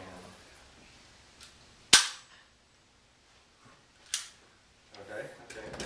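A staple gun fires once with a sharp, loud snap, followed later by a softer click and some faint handling noises in an otherwise quiet indoor space.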